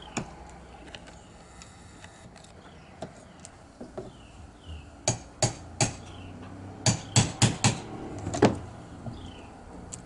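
Old nails being pried out of reclaimed wood with a nail puller, a series of sharp metallic knocks and creaks that grow louder and closer together toward the end, with no voices.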